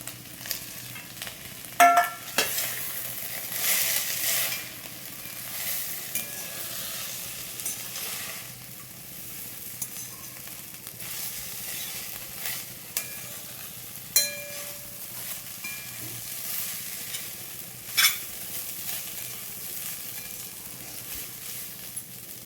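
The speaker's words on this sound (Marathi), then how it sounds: "आता आपण यामध्ये आपले नूडल्स घालून घेऊयात" Spinach and wheat-flour noodles tossed and stir-fried in a hot pan, a steady sizzle with intermittent stirring scrapes and a few sharp clinks, fairly close and without talk.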